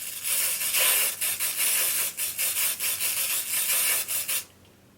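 Temporary hair color spray hissing from an aerosol can in a string of short, close bursts with brief gaps, applied two twists of hair at a time, stopping abruptly near the end.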